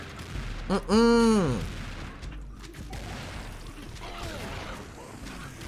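Enemy gunfire in the Serious Sam 2 video game, with several shots and booms crackling amid game noise, a brief whistling tone, and a man murmuring briefly.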